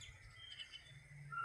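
Small birds chirp and tweet at a bus stand while pecking at scattered rice, light calls rising over a low rumble of background noise.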